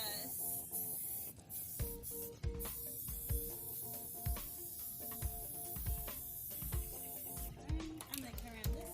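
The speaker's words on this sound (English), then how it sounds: "So I'm just going to keep spray painting this." Spray paint hisses in repeated bursts over a wooden blanket ladder outdoors, with short pauses between passes and a steady loud rush, while a person talks intermittently over the spraying.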